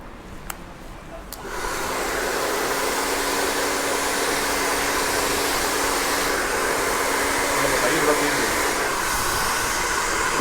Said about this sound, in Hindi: अभी हम फर्स्ट सेक्शन पर इनके ड्रायर करेंगे।